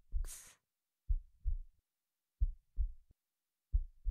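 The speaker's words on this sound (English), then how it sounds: "The sound of each other's heartbeats." A heartbeat thumps close and low, three evenly spaced lub-dub double beats at a slow, steady rhythm, following a brief rustle at the start.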